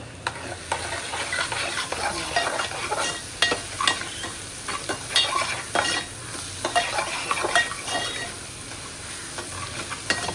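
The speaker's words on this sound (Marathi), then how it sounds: "तर आता पटकन छान मी आता मिक्स करून घेते मस्त" Papad curry being stirred in a frying pan, a busy run of spoon scrapes and knocks over a continuous sizzle, close and fairly loud with no voices.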